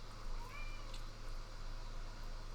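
A quiet, short meow, most likely a human voice imitating a cat, sits over a low steady background hum.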